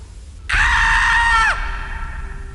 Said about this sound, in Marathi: जोरात किंचाळण्याचा आवाज आला.